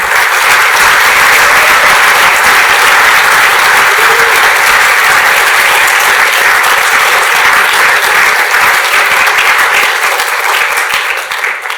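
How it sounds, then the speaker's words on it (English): An audience at a hackathon closing ceremony at Imperial College gives a loud, dense round of applause that runs unbroken for nearly twelve seconds before starting to fade. "So if you could give them a round of applause, that would be amazing."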